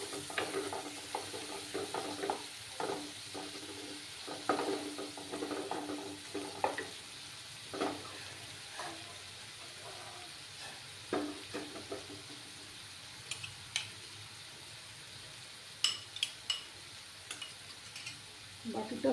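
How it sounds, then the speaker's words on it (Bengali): Turmeric-spiced masala stirred and sautéed in a pan, with soft sizzling under repeated scraping and knocking of a spoon against the pan, plus an occasional sharp clink, close and moderately quiet throughout. "সামান্য হলুদ গুঁড়ো দিলাম, দিয়ে মশলাটাকে ভালোভাবে কষিয়ে নিতে হবে।"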